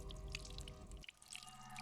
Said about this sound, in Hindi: बाथरूम में पानी भरने की आवाज आ रही है।